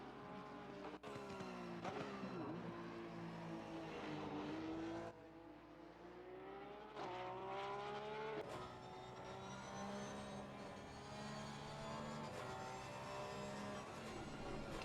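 GT3 race cars lap the Misano circuit in a racing video game, their engines revving hard through repeated upshifts and downshifts with some tire squeal, a continuous loud roar.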